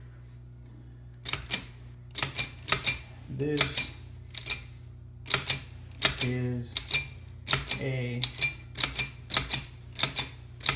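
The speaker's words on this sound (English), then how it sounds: "you can kind of see how the typewriter works" Rapid clacking keystrokes of a manual typewriter in irregular bursts, close and loud, with a few words spoken briefly between the strikes.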